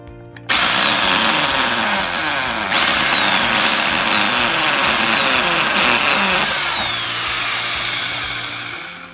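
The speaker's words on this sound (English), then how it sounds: "Doing right now is drilling some holes in this box underneath the lip so air can get in but rain can't" A power drill bores holes under the lip of a plastic container lid on a patio, a loud steady whine running throughout, with pitch dips and rises as the bit bites and breaks through.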